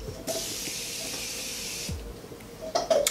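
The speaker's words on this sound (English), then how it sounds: "I'm using the Morphe setting spray." A fine mist of Morphe makeup setting spray sprays in one continuous hiss for under two seconds, followed by faint handling clicks nearby.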